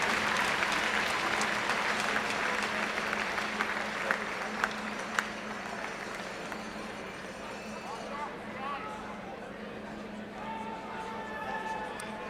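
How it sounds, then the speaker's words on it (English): Sustained crowd applause fills a college hockey arena during a pregame recognition of student achievers, a dense, even wash of clapping with a few sharper claps that slowly thins, with a voice on the public address system. "Let's give them a round of applause for these outstanding student achievers."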